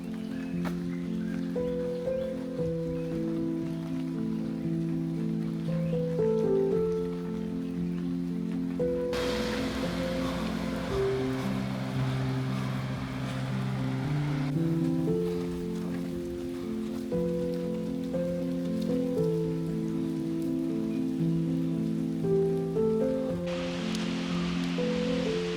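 Steady rain falls on a mountain trail in Thailand, a soft continuous patter that runs throughout. Sustained tonal music sits on top of it.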